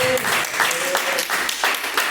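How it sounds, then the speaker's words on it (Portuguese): Church congregation clapping hands in rhythm during a worship service, a steady pulsing beat with a voice speaking over it. "Bate palmas e glorifica."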